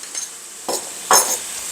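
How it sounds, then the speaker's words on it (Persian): Chicken is tossed with turmeric, red pepper, garlic powder and lemon juice in a bowl, giving a few separate wet scraping and clinking strokes against the bowl with quiet pauses between them. "اینا رو حسایی با هم مخلوطشون میکنم تا ادویه ها به خورد هم برن"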